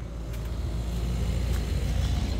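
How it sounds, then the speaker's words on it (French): A car approaches, its low engine rumble swelling steadily as it draws nearer in the evening, with no talking. "il y a une voiture qui arrive"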